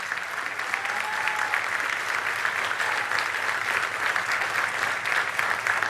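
A church congregation at a celebration service applauds, a steady, sustained patter of many hands clapping throughout, moderately distant, with an occasional faint voice rising above it.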